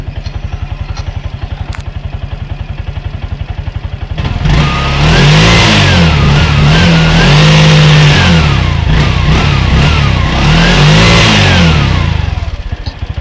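Car engine after a fuel filter repair, idling with a steady rapid putter, then revved hard several times in long rising and falling surges, loud and close, with no talk.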